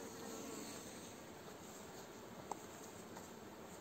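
Bees crawl and buzz on a beehive frame holding newly emerging bees, a faint, even hum with soft rustling and one small tap partway through.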